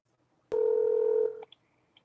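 A telephone sounds a single steady electronic dialing tone for under a second, followed by a few faint short beeps, clear and close in an otherwise quiet room.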